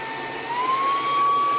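A DRECELL cordless handheld car vacuum with a brushless motor runs steadily and loudly up close, its motor whine rising slightly in pitch as it gets going, with no one talking over it.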